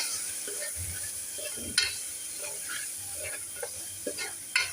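Chana masala with Sunday masala sautéing in a pan: a quiet, steady sizzle broken by occasional scrapes and taps as a spoon stirs it, close and without talk.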